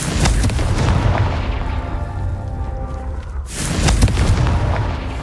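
A Confringo fire spell blasts in the Hogwarts Legacy video game, a loud burst of booming crackle that fades into rumble, then a second sharp blast near the end.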